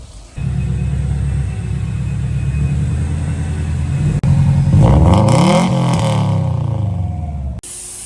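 Car engine heard through a custom tailpipe exhaust, a loud close rumbling idle that swells into a revving rise and fall midway before settling and cutting off near the end.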